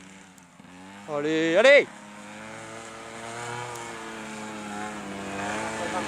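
A child's small motorcycle accelerates hard up a climb, its steady buzzing engine drone rising in pitch and swelling toward the end, while an adult briefly shouts encouragement.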